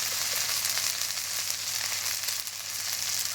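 Cumin paste and spices sizzling in leftover fish-frying oil as they are stirred, a steady close hiss and crackle running continuously without talk.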